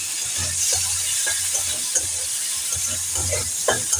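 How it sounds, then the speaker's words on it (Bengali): Shrimp fry in hot oil seasoned with salt and turmeric, giving a steady moderate sizzle and hiss, with soft stirring scrapes and light pops scattered through it and no voices. "এবার আমি চিংড়ি মাছগুলোকে এর মধ্যে ভাজা করে নেব।"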